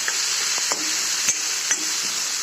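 Potatoes cooking with fenugreek leaves in a pan over a low gas flame give a steady, even sizzle, with a few soft stirring scrapes and no voices.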